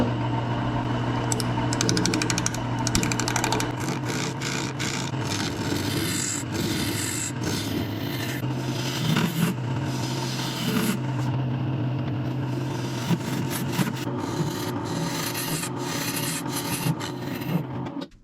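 A wood lathe spins steadily while a tool hollows out a turned wooden piece, giving a continuous loud scraping and grinding over the motor hum, with bursts of chatter throughout and no talk.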